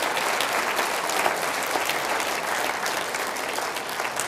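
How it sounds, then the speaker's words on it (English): A full round of applause from a large audience at a talk, a dense, steady roar of clapping sustained at even volume from start to finish. "Give yourselves a round of applause for just for being mature."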